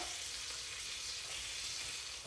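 Food sizzles steadily in a 15-inch Magnolite pot, a continuous soft frying hiss with no talk over it.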